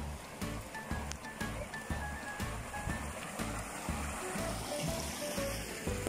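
Heavy rainwater rushes and churns steadily during the Salalah, Oman rainy season after flooding, a dense, continuous watery roar close by with no voices.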